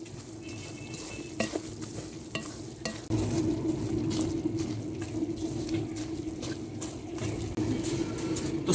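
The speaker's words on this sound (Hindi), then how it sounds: "तो चम्मच को मुसलसल हिलाते रहेंगे, कहीं सूजी हमारी नीचे लग ना जाए।" A spoon stirs semolina as it roasts in a pan, a steady scraping and soft sizzling that swells and continues close by without talk.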